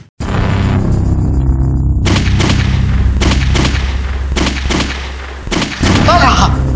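Gunfire in a Pashto comedy skit: a burst of several sharp, loud reports spaced roughly half a second apart, ringing over a steady low rumble, with no talking.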